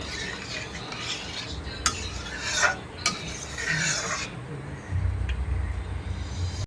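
Fish curry being stirred in a pot after salt and sugar go in, with raspy scraping strokes of a spoon against the pot, two sharp clinks, and a soft background hum.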